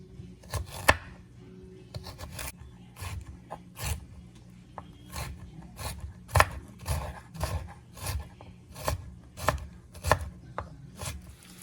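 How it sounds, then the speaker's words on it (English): A knife chops vegetables on a cutting board in a steady, brisk run of close, crisp cuts with short pauses, prepared for a ground turkey burrito; no one speaks. "I'm going to go ahead and cut my veggies."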